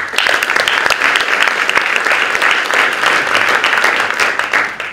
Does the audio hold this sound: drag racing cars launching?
no